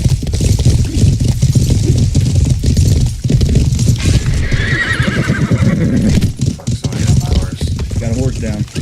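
A horse neighs amid clip-clopping hooves and busy sounds in the video game Life is Feudal, with people talking over the action throughout.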